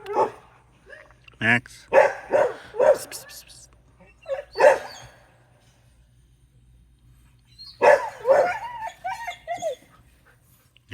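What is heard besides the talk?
dogs barking and whimpering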